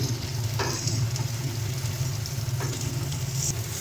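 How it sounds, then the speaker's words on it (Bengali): Spices frying in oil in a pan while making an egg poach curry with Kashmiri red chilli powder, giving a steady close sizzle with a few stirring scrapes and no talk. "দেখো মশলা আমাদের প্রায় ভাজা ভাজা হয়ে গেছে।"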